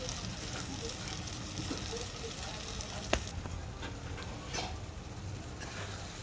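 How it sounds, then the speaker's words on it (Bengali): Garlic paste, ginger paste and tomato fry in oil, a low, steady sizzle and crackle with occasional faint stirring clicks. "রসুন বাটা, আদা বাটা এবং টমেটো দিয়ে ভালোভাবে কষিয়ে নেব"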